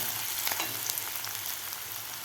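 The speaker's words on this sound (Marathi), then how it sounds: "कापून घेतलेला कांदा आपल्याला दोन मिनिट चांगला परतून घ्यायचा आहे" Chopped medium onion sautéing in a pan for a ridge gourd stir-fry: a continuous bright hiss of frying with a few soft stirring scrapes, close and fairly quiet, with no voices.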